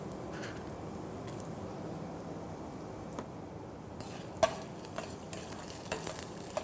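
Black pepper, toor dal, coriander seeds and a red chilli roasting in a pan with a little oil for kandathippili rasam. A quiet, gentle sizzle runs throughout, then sharper scraping clinks of a spoon stirring follow in the second half.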